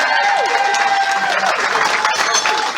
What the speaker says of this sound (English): A big round of applause for Tommy